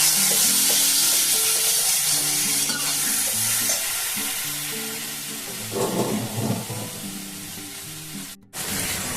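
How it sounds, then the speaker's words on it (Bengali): Warm water poured into a hot frying pan of katla fish curry sets off a loud, steady sizzle, with stirring and rubbing scrapes over it and a short break near the end. Nobody speaks. "এখন দিয়ে দেবো উষ্ণ গরম জল।"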